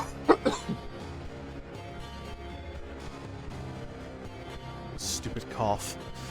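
A few sharp coughs near the start, set amid game music and effects from the video game FlyKnight, with later sound effects toward the end.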